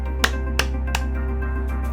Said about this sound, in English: those 3 claps were probably very confusing for you